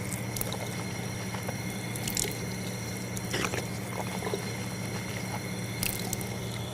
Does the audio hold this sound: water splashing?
yes